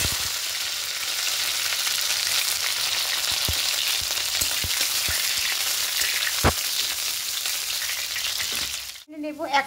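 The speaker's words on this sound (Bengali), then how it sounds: "কড়াইয়ে সর্ষে তেল দিয়ে তেলটা গরম হয়ে গেছে। প্রথমে এখানে উচ্চগুলোকে ভেজে নেব।" Vegetables fry in hot mustard oil in a wok, a steady loud sizzle with occasional sharp pops and crackles, ending with a brief stirring clatter.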